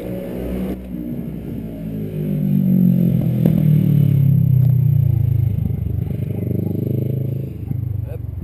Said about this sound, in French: la belle moto qui passe